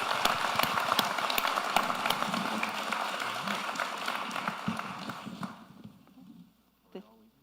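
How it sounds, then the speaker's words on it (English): Audience applause for a panel at an energy-industry conference, a dense, steady crowd clapping with voices mixed in that thins and fades out after about five seconds, leaving near-quiet with a brief knock. "how about a round of applause for the panel?"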